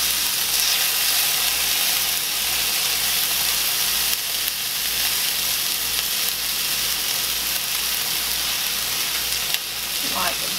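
Swedish meatballs fry in a crowded pan, giving a steady, close, loud sizzle and hiss that holds throughout, with a brief faint scrape near the end.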